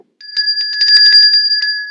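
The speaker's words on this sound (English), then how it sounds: "Where's that bell?" An electric bell rings in a television weather studio, a steady bright ring with a rapid rattling pulse that runs continuously for nearly two seconds, close and loud.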